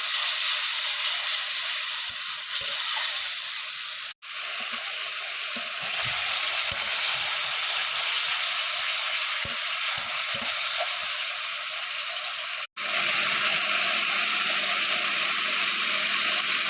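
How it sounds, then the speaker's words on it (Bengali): A spiced mixture with salt sizzles steadily in a pan as it is sautéed for a home-style egg and potato dish, a continuous close frying hiss with faint stirring scrapes and two brief breaks in the sound. "দিয়ে দেবো লবণ, দিয়ে এটাকে ভালোভাবে কষিয়ে নেব।"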